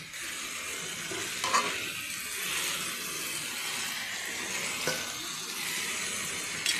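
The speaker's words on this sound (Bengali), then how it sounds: "এবার আমি পালং শাকটা দিয়ে দিচ্ছি" Steady frying sizzle as spinach is added to a hot pan of frying vegetables, a broad hiss lasting throughout with a couple of brief clinks or stirs, no talking.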